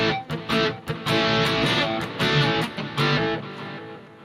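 An electric guitar plays chords through a lightly overdriven amp model on a Hotone Ampero 2 Stage, with a gritty, crunchy tone and short rhythmic strums and pauses.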